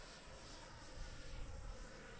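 Futura 64mm RC jet with electric ducted fan motor spooling up to climb after a dive, a faint steady whooshing whine heard at a distance, swelling slightly midway.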